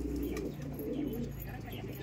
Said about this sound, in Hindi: ये लो भाई, ये कबूतर है जी